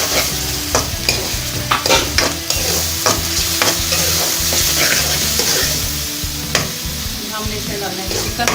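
Onions frying in a pan with ginger garlic paste for a chicken samosa filling, sizzling steadily up close while a utensil stirs and scrapes in irregular knocks, no voices.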